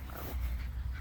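A small Chihuahua at a dog park makes a short, low rumbling growl with a faint whine, close by and lasting about a second.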